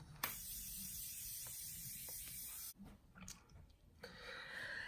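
A Morphe Continuous Setting Mist Spray releases a long, steady fine hiss lasting over two seconds, then a pause with small handling clicks and a second, shorter burst of mist near the end. The spray is close and there is no talking.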